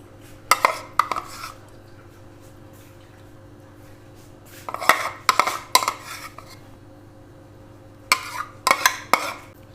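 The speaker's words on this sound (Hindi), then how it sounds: "इस स्पैचुला की मदद से इसको सारा ऐसे करके फैला लें अच्छी तरह, ये जेली को कवर कर लें।" A spatula scrapes and taps against a dish while spreading mango puree over a set jelly layer, giving three clusters of sharp clinks and smears separated by quiet pauses.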